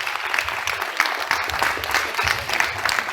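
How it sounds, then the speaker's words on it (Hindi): Applause from a festival audience at the Ujjayani short film festival, a dense, steady clapping that stays loud throughout without a pause. "जबरदस्त तालियां"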